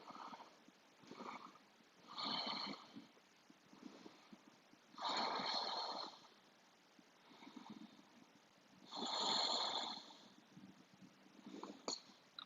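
Slow, deep breaths during a yoga pose come as soft, airy inhales and exhales every few seconds, close and quiet, with near silence between them.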